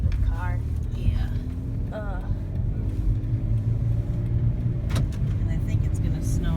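Car driving along a street, a steady low rumble and road noise from inside the cabin, with people talking over it.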